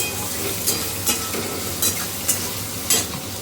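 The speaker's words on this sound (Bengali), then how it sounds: "নুন আমি দিয়ে দিলাম যাতে আলুটা খুব তাড়াতাড়ি ভাজা হয়ে যায়" Potatoes frying with salt in a pan give a continuous close sizzle, broken by periodic scraping strokes of a spatula stirring them, with no voices.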